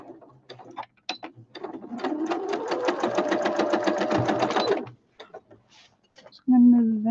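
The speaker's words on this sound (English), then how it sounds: "So I'm sewing down the big long edge now." Sewing machine stitching down the long edge of a fabric basket, a rapid rhythmic mechanical whirring burst lasting about three seconds, preceded and followed by brief handling clicks and taps, close and clear.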